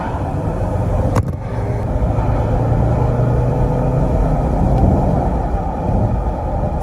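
A Range Rover L322 with a supercharged V8 accelerates hard in sport mode, a loud sustained engine rumble building inside the cabin with the window open.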